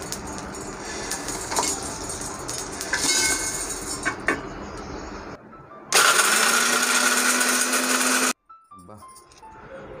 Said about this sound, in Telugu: వీటిని మిక్సీ కొడదాం మనం ప్రస్తుతానికి.